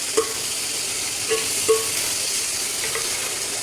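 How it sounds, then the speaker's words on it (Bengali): Chopped onion and green chili fry in a pan with cinnamon, cardamom and cloves for chicken do pyaza, giving a steady close sizzle broken by a few light clinks of a stirring utensil. "পেঁয়াজটাকে ততক্ষণ ভাজ ভাজতে থাকবো যতক্ষণ এর কালার ব্রাউনিশ আসে"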